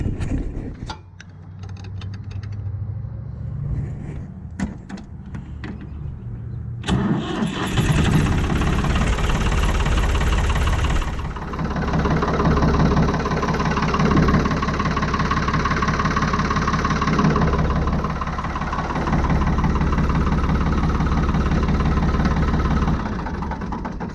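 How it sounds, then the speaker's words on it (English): A Ford tractor engine, fitted with a faulty three-point hitch pump, cranks over with a few sputtering catches, then fires into a loud, steady idle with a low rumble that runs close and unbroken for the rest of the clip. "let's turn this freaking tractor back on"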